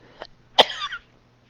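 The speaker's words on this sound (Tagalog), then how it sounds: "nagsugod na akong ubo" A faint short throat sound comes first, then one sharp, close cough with a rough rasping tail, alone in a quiet room.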